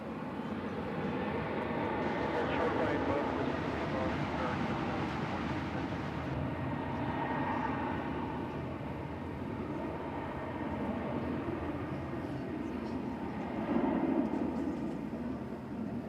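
A jet airliner on its takeoff roll from runway 18 left at DFW Airport, a steady broad engine roar heard from a distance, holding level and slightly swelling toward the end without any talk.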